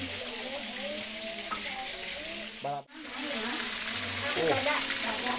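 Food such as salted peda fish frying in hot oil, a continuous close sizzle with voices and some clattering over it, briefly dipping before the hiss resumes.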